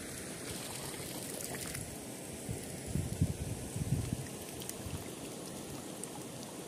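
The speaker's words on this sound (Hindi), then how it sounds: "हम लोग का खेत में ही यहाँ पर पानी यहीं से उतरता है" Water runs steadily down into a village field where a fish trap is set, a continuous soft rushing and trickling heard nearby with a few louder splashy bursts.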